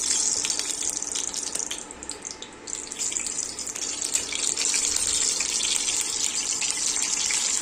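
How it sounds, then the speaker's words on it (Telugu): Oil being poured into a kadai on the stove, a steady close liquid pour and hiss that runs continuously for several seconds with no talking. "నేను 2 టేబుల్ స్పూన్ల ఆయిల్ వేస్తున్నాను"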